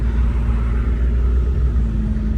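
Suzuki Alto 660cc car accelerating gently, a loud, steady low engine rumble heard from inside, with a constant drone and no talking.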